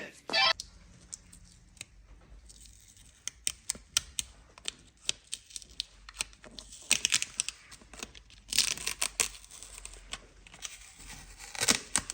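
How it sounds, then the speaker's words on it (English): Stickers peel off the rear wheel of a 2015 Kawasaki ZX-10R superbike in a series of sharp, close tearing and crinkling rips, sporadic at first and then in denser bursts. "This is always the satisfying bit, taking off the stickers."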